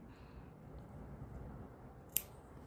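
A single sharp snip of scissors cuts through crochet yarn, close and brief, over a quiet steady room hum.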